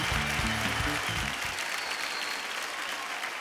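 Studio audience on the TV dance show DID Super Mom bursts into loud, sustained applause, with a brief musical sting in the first second and a half before the clapping carries on alone.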